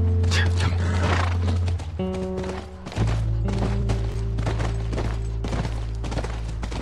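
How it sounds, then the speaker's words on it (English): Horse sounds in the video game The Last of Us, with a whinny and hoof clip-clops over a steady low game soundscape and music; voices speak over part of it. "That's our horse."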